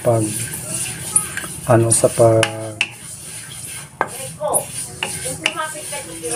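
Sesame seeds being toasted and stirred in a pan, with scraping and light clinking of a utensil against the pan, heard under someone speaking close by.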